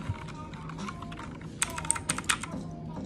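Keys clacking on a computer keyboard, a quick run of distinct taps that grows sharper and louder toward the middle, with faint room noise around it.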